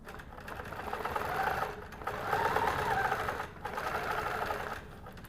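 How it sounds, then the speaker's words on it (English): A Finesse sewing machine stitches 100% cotton fabric in three steady runs of rapid, even mechanical whirring, separated by short pauses, heard up close and alone. "So now we can go ahead and stitch a little bit."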